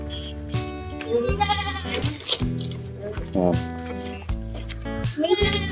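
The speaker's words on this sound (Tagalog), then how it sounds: "So yan po yung dalawang kambing." Two goats bleat repeatedly in a farmyard, loud and close, with strained, wavering calls that overlap in quick succession while a person speaks briefly between them.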